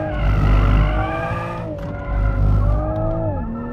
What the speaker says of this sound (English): Oh, what a big slide.